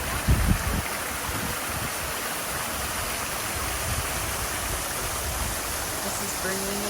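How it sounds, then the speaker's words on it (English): Continuous rushing splash of water from Bernini's Four Rivers fountain in Rome fills the scene as a steady broadband wash, with a short burst of nearby talk at the start. "This is Bernini's Four Rivers fountain."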